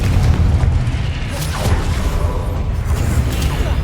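A Confringo fire spell explodes in the Hogwarts Legacy video game, a loud booming blast with rumbling low end that carries on steadily through the clip amid other combat noise.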